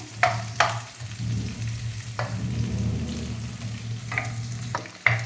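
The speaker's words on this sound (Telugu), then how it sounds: "కొద్దిగా ఆయిల్లోనే మనం కొంచెం మీడియం ఫ్లేమ్ పెట్టుకొని వేసుకున్నాము." Onions frying in a little oil over a medium flame for homemade gobi fried rice. A steady low sizzle runs throughout, broken by several sharp clacks of a stirring utensil against the pan.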